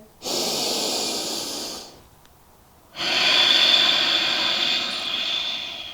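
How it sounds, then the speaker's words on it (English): Deep, close breaths during a yoga class: a long, loud rushing inhale, a short quiet pause, then an even stronger, sustained airy exhale. "One more breath here."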